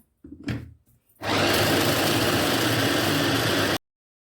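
A mixer grinder whirs loudly and steadily for about two and a half seconds while blending biscuits into cake batter, after a brief rattle of the lid being handled.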